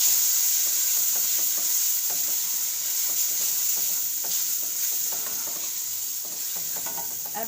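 Soaked dry fruits are stirred and fried into semolina halwa in a pan, making a steady close sizzle with soft scraping stirs throughout.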